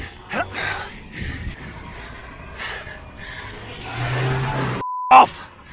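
A car passes very close to a cyclist climbing Winnats Pass. The engine rushes up and swells over heavy, labored breathing, then cuts off abruptly.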